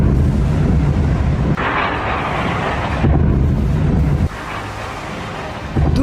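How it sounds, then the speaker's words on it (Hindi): Explosions from a Russian strike on Kharkiv, heard as repeated heavy, low booms with deep rumbling tails, several coming one after another, loud and close-sounding amid wind noise. "एक के बाद एक 4 धमाके"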